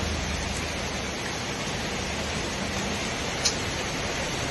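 Heavy rain pouring steadily during a motorcycle ride through the Western Ghats between Udupi and Iritty, Kerala, a dense, constant hiss with no break and a single brief tick near the end.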